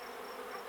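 Honey bees buzzing at a beehive during a spring apiary inspection, a steady, close, moderately quiet drone of many wings with no voices.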